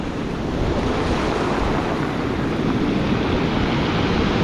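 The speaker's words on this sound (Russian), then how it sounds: "разболтало море." Rough Black Sea waves near Yalta churn continuously, a dense roaring wash of water mixed with gusting wind buffeting the microphone, loud and close.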